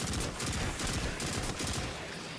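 A pulse rifle in Destiny fires rapid, near bursts in a solo Master Presage mission, the loud shots repeating with barely a pause and no talk.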